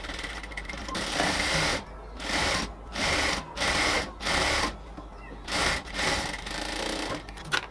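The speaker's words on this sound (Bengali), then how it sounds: "এবার নেক্সট কাজ হচ্ছে একদম উপর দিয়ে আমরা হচ্ছে আরও একটা সেলাই দেব।" A sewing machine stitches a cotton salwar in loud, close bursts of rapid whirring, stopping and restarting about six times with short gaps between runs.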